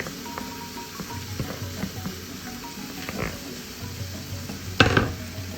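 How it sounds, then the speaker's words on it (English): Marinated soy chunks drop into a hot frying pan for a soy chunk curry, giving a steady low sizzle with scattered clinks of utensil against pan and one sharper scrape or clatter near the end. "you're going to add your marinated soy chunks"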